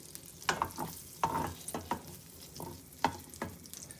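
An egg cooks in butter in a handmade pan. Close scraping and tapping strokes sound in an uneven rhythm over a low sizzle.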